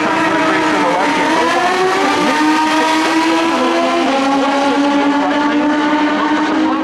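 Naturally aspirated super stock drag motorcycles racing head to head, their engines screaming loud and close with pitch sweeping upward through the gears over a steady roar.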